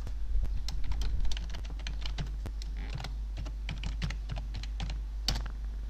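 A password typed on a computer keyboard in a series of quick, close key clicks with an irregular rhythm over a low steady hum, no voices.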